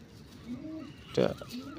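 A Malayai pigeon gives a short, soft coo close by, with a faint low murmur of voices in the background.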